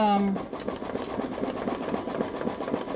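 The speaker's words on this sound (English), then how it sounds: "we're at the home stretch where it's doing the satin stitch around the outside" A Babylock Solaris embroidery machine stitches a satin-stitch border on a sweater patch, its needle chattering in a fast, steady mechanical rhythm. A brief tonal beep sounds at the start.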